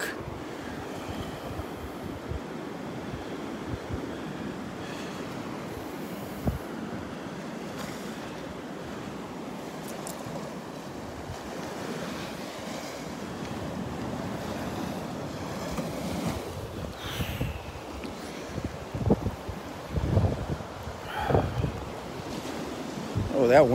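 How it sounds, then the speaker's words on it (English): Morning wind gusts across the beach at Delnor-Wiggins, a steady rushing roar buffeting the microphone over distant surf, growing choppier and louder toward the end, with no voices. "wind is just cutting right through me this morning"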